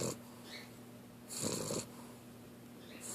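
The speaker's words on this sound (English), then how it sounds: "sleeping on her back, snoring like the dickens." A puppy asleep on her back with her mouth open, snoring in slow close rhythmic breaths, a quiet rasp broken by one louder, wheezy snore midway and another starting at the end.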